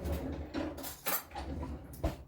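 A spoon clinks and scrapes against a dish while making pineapple cake balls with frosting, several soft irregular taps close by and fairly quiet.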